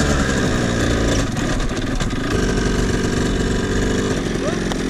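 A loud motorbike engine runs close by on a pedestrian path, a steady, heavy rumble that holds throughout with slight shifts in pitch as it idles and revs.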